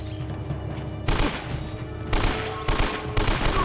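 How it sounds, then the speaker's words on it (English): Rapid AK rifle fire from Uncharted: Drake's Fortune comes in several loud, close automatic bursts separated by short gaps. "It's hard to hit headshots with this AK"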